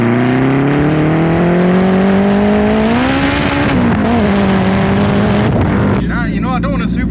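A turbocharged Honda making about 450 hp on only 8 psi of boost hums loudly from inside the cabin, its engine tone rising steadily and then settling, while people talk over it throughout.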